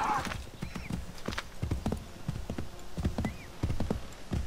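Horse hooves clip-clop in the Assassin's Creed III video game, a steady near trotting rhythm of sharp hoofbeats over faint ambient background with a brief whinny near the start.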